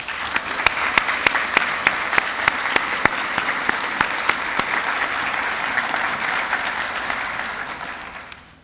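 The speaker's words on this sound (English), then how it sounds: "let's give them a huge round of applause." A graduation ceremony crowd gives school district partners a hearty round of applause, steady dense clapping with a few sharp nearby claps standing out, tapering off at the end.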